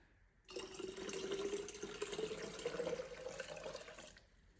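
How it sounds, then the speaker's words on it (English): Cold water pours steadily into a pitcher of sweet tea for a few seconds, a gurgling stream whose pitch rises slightly as it fills, quiet and close, no voices. "I'm just gonna top it with 4 cups of cold water."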